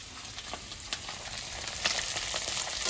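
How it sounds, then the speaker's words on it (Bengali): Small fish fry in hot oil in a pan, a faint steady sizzle with soft crackles and occasional stirring clicks, heard alone and close. "তা মাছ যখন উল্টানো হয়ে গেছে, অর্ধেক ভাজা হয়ে গেছে"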